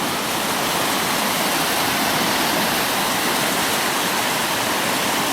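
Loud, steady roar of a rain-swollen Highland river rushing past close by, broadband white-noise wash filling the whole clip with no pauses and no voices.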